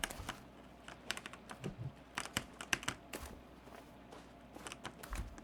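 Close, steady keyboard typing: rapid irregular key clicks tapping away continuously with no voices.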